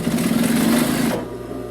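A Brother DB2-B735 industrial sewing machine stitches fast with a steady, loud mechanical whir for about a second, then stops, leaving a quiet room hum.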